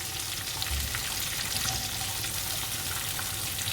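Pork pieces frying in a pan for an Indonesian stew, a steady close dense sizzle that holds constant throughout with no talking.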